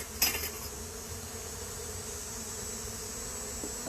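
Honey bees hum steadily at an opened backyard hive, a soft continuous drone with one brief louder buzz near the start as a bee passes close.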